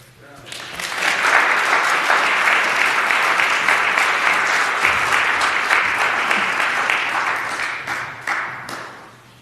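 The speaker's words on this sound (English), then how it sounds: "Well, I can't top that applause" An audience claps to welcome a speaker, a full sustained round of applause that swells in quickly, holds steady and tapers off near the end.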